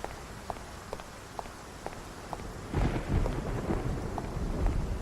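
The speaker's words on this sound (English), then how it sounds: "Never stops raining." In the game Face Noir, steady rain patters while soft, regular footsteps pass, then a deeper rumbling swell of heavier rain takes over partway through.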